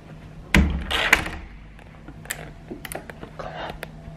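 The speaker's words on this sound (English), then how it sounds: "Let me just close the door." A door pushed shut indoors with a sharp thud, followed by a second knock and a few faint shuffles and clicks in a quiet room.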